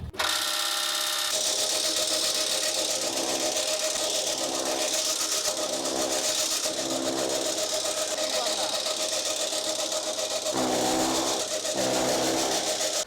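An electric motor-driven straw and grass chopper runs continuously, cutting straw and corn stalks for cattle feed; its loud, steady mechanical whir and chopping drone fills the whole clip with little variation.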